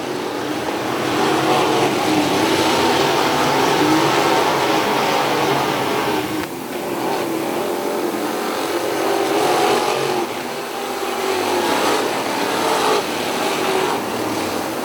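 Wingless sprint cars race on the dirt track at Wilmot, their engines roaring loud and continuous as the pack passes, the tone rising and falling slightly over nearly fifteen seconds.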